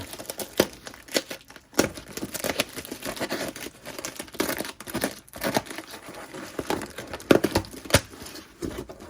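Parcel packaging holding grape seedlings is torn and crinkled open, with irregular bursts of rustling, ripping and crackling plastic or paper up close, some sharp snaps between softer handling noises, no voices.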